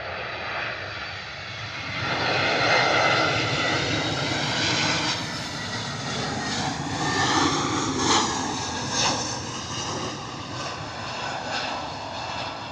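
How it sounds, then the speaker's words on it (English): An EasyJet airliner arriving from Belfast lands in a strong crosswind at Bristol Airport, its engines a loud, steady roar that swells as it passes close and then holds, with no talk over it. "EasyJet coming in from Belfast, crabbing"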